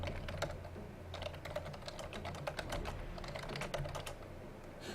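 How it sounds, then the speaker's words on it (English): Rapid typing on a computer keyboard, a dense, irregular stream of close, crisp key clicks with a faint background hum and no talking. "You guys heard my typing"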